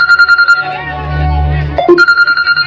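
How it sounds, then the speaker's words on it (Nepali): A telephone rings loudly and close by in rapid repeated pulses, broken by a short stretch of mixed voice and noise before the ringing resumes. "फोनको घन्टी बज्दैछ, उठाउनुहोस् न।"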